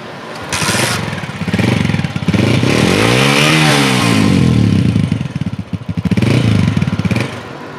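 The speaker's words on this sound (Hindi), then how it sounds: "बाइक हुई जी पहली किक पे स्टार्ट, साउंड भी आप दोस्तों ने सुन लिया" A used Honda motorcycle engine kick-starts on the first kick and keeps running, revving up and down with a rough, throbbing rumble close by.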